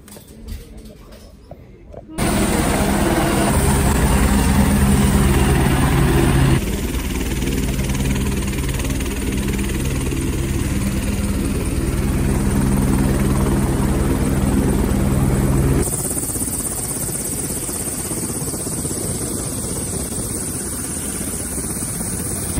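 A tour helicopter over Manhattan, New York, heard from inside the cabin: a loud, steady rotor and engine roar starts abruptly after a quiet moment and drones on continuously while people talk.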